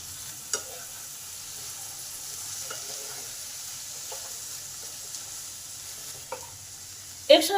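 Chopped carrot and yardlong beans stir-fry with ginger in a pan, a quiet steady sizzle with occasional spatula scrapes and a louder clatter near the end.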